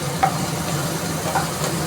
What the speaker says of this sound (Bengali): আমি একটু নাড়িয়ে নিচ্ছি এটা